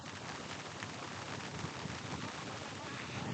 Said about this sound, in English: Just a drizzle now.